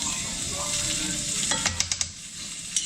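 Garlic and onion fry in a pan with a steady close sizzle. A few short taps of a utensil come near the end, and nobody speaks.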